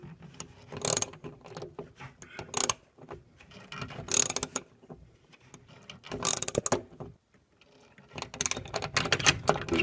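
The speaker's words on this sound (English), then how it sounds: "I'll just use the socket wrench to make sure it's nice and tight" A socket wrench tightening a flipper plunger on a Williams F-14 Tomcat System 11 pinball machine, giving bursts of rapid ratcheting clicks in several strokes with brief pauses, close and clear.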